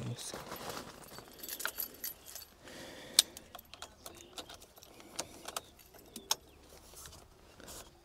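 Car keys for a Tata Altroz XM 1.2 petrol hatchback jangle close by in quick, light metallic rattles and clicks, with some speech around them.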